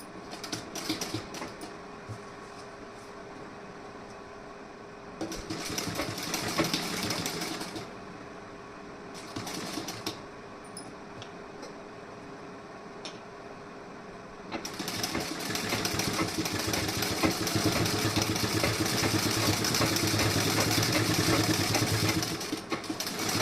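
A sewing machine stitches a double seam on a garment's sleeve and back panel, running in short whirring bursts and then one long steady run, with quiet pauses between.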